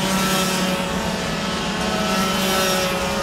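Yamaha racing motorcycles at a 2014 SL national championship race at TIA, taking a hairpin: a loud, continuous engine drone with steady pitch, close and dominant for the whole stretch.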